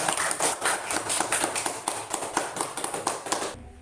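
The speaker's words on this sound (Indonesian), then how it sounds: "beri aplaus tepuk tangan kepada kelompok 2" Children in a fourth-grade classroom clap together in a dense, steady round of applause that carries on for several seconds before cutting off abruptly.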